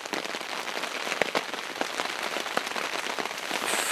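Steady rain patters on a tarp during a spring backpacking and fly fishing camp, a dense, continuous hiss of close drops with scattered louder taps, and no talking.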